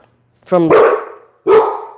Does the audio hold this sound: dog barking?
yes